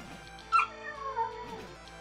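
A puppy whimpers close by in a few thin, high, wavering cries, with a sharper yip near the start, set against quiet background noise.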